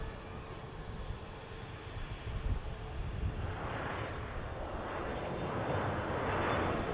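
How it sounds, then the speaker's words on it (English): Passenger jets at Manchester Airport, an easyJet taxiing out and a Loganair jet taking off in the background, make a steady, fairly distant engine roar that swells louder toward the end. "Another EasyJet on the roll out to Hurghada with the Logan Air to Aberdeen just taking off in the background"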